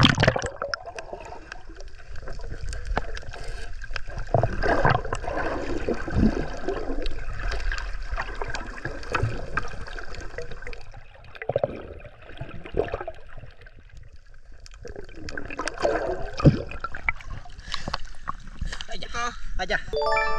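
Sea water sloshes and splashes continuously as a fishing net is hauled in during a harvest, with several people talking and calling out over the watery churn.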